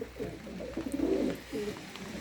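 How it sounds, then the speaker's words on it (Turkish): Adana pigeons, males and a female, coo in soft, throaty rolling notes, close and fairly quiet, with a swelling coo in the middle against low background noise. "Çünkü bak erkeklerim o tarafta yan taraftan ikisi de ötüyor. Dişi de ötüyor."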